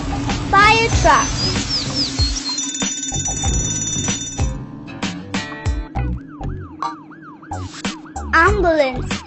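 Ambulance siren cycling in quick repeated up-down whoops after a brief high beeping tone, loud and near amid clicks and rattles, with a voice talking over it.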